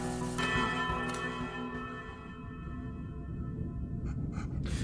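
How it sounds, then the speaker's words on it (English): A bell dinged in a video game rings out with a strong, sustained metallic tone that lingers and slowly decays, with faint low rumble and a few light clicks underneath. "Can I ding the bell?"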